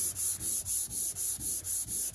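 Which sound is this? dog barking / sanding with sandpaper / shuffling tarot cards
sanding with sandpaper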